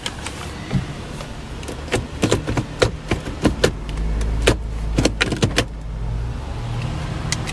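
A used car with about 112,000 miles and leather and wood trim starts up and idles, a steady low engine rumble underneath scattered clicks and thumps from the cabin.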